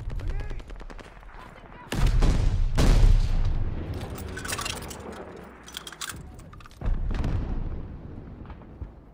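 Call of Duty: Vanguard multiplayer combat: a thrown grenade goes off in a loud, booming burst within near-continuous rattling gunfire. Heavy bursts and sharp shots continue around it.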